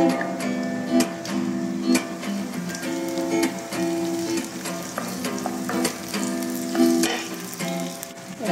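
Onion sauteing in a pan after garlic, a steady loud sizzle with periodic stirring clacks, hiss rising and falling throughout.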